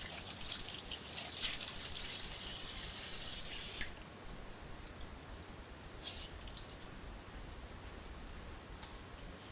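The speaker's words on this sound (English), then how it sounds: "Washing the prints very hard." DTF prints scrubbed hard under running tap water in a sink, a steady hiss of flowing water with rubbing bursts, louder at first, then quieter with brief splashes.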